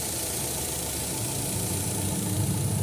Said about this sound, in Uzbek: Bugun biz navbatdagi Nexia 3 motorimizni ham yurgizib oldik.